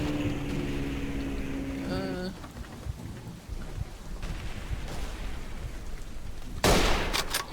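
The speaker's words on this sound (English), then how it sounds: "Now they're throwing grenades over here." Grenade blasts and gunfire in the World War I shooter Verdun, with a sharp loud explosion near the end over rumbling battlefield noise and scattered distant shots.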